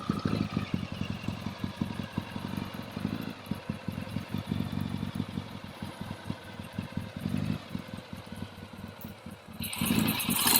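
A 1964 Triumph TR6R motorcycle engine runs close by, a rapid, even stream of exhaust pulses at idle, loudening toward the end as it is revved.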